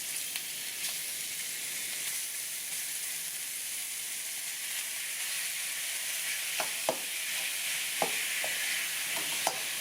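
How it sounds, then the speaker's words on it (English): Ground beef browning in oil in a pan gives a constant close sizzle, with sharp spoon scrapes and taps growing more frequent toward the end. "now to this we're going to go ahead and add our ground beef"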